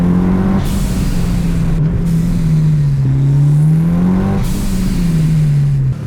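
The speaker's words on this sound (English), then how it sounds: "So a few little common symptoms of this dreaded blow-off valve you guys might have heard on some cars." A Mitsubishi Evo 6 engine fitted with a blow-off valve runs at a steady, loud drone. Its pitch wavers and dips briefly several times, with short breaks in the hiss.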